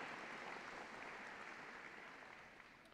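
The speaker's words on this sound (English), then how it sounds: "Let's have a round of applause" Steady applause from a crowd at a Hall of Fame induction ceremony, dense and continuous clapping that fades slightly toward the end, with no voices standing out.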